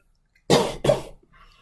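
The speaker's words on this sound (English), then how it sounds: "I got a bit of a cough" Two sharp coughs in quick succession, close and fairly loud, followed by a faint rustle.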